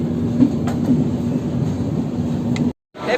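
Superfast express 12792, Danapur to Secunderabad, rolling into Mancherial station: a steady broadband rumble of rail noise with a faint sustained hum, briefly cut to silence near the end before the rumble resumes.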